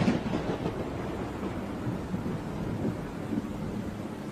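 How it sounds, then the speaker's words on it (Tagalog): Loud thunder rolls through a night storm in a remote rural village with no power, a broad continuous rumble with rain-like hiss holding steady throughout, no voices. "ang lakas po ng kulog at kidlat, no?"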